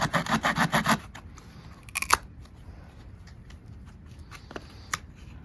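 Rocktol SK02 19-in-1 multitool cutting notches into wood, a quick burst of rhythmic close rasping strokes followed by a few isolated scrapes and taps amid quiet.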